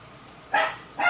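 Dog barking indoors in a kitchen, two sharp barks close by, alone with no talk over them.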